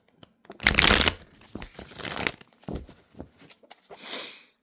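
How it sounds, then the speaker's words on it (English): Tarot cards being shuffled by hand, several quick riffling bursts of papery flutter with short pauses between, close and fairly quiet, with no talking. "One more shuffle."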